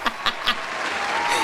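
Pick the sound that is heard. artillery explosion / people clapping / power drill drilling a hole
people clapping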